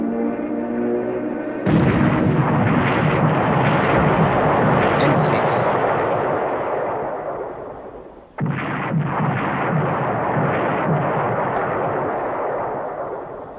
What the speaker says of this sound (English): But 4 bomb hits is maybe too much